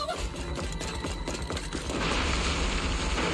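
A room blowing up in a video game, a dense rumbling burst of crashes and crackling debris that swells louder in the second half and holds steady, with no voices over it.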